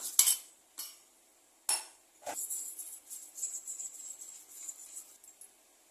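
A spoon stirring asafoetida into water in a small metal cup, giving a few sharp clinks and then a run of light, rapid scraping taps, close and fairly quiet, with no voices.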